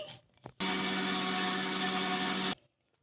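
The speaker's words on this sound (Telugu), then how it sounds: "ఇప్పుడు మెత్తగా మిక్సీ పట్టేసుకుందాం మనం" A mixer grinder (mixie) grinds dry semiya (vermicelli) into powder in a steady, loud whir lasting about two seconds, starting and stopping abruptly, with faint kitchen sounds before and after.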